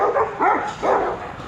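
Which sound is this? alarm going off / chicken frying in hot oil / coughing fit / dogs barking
dogs barking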